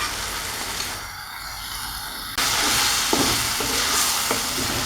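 Taki fish bhorta mixture with salt is stirred in a hot pan, a continuous sizzle that jumps louder halfway through, with a few light knocks of the spoon against the pan.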